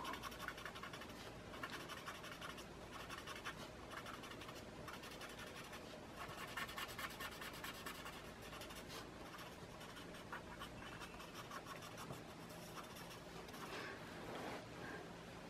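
Pencil strokes shade on paper in close, quiet, continuous scratching, with short repeated back-and-forth rubs running steadily throughout.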